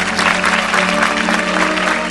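A church congregation applauds in a dense, continuous wash of many hands clapping, loud and close, with a low hum beneath and no break in the sound.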